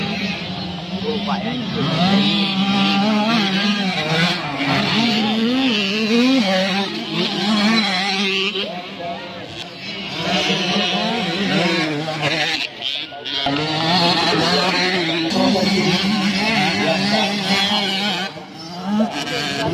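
Motorcycles racing at a national championship in Aceh, their engines droning and revving loudly and continuously with rising and falling pitch, with voices mixed in.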